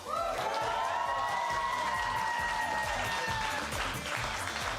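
An audience at an end-of-term music showcase claps and cheers loudly and continuously, dense applause with a few whistle-like tones rising over it, with no speech.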